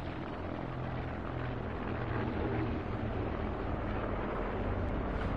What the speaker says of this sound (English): See, when the supply planes go overhead, you can't hear anything.